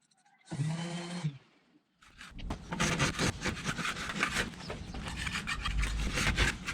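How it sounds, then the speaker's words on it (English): Rough scraping and sanding of antifouling paint off a Grady-White boat hull, a short burst first, then continuous rhythmic rasping strokes, close and fairly loud. "I did it with some paint stripper, a scraper, sanding, and a lot of elbow grease"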